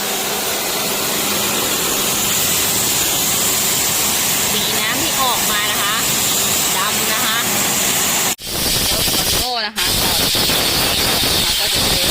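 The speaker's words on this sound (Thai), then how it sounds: "ฉีดล้างความสะอาดภายนอกให้นะคะ" A pressure sprayer jets water to rinse the outside of a Volvo XC90 air conditioner condenser panel, a loud steady broadband hiss that runs throughout, broken by two brief pauses near the end.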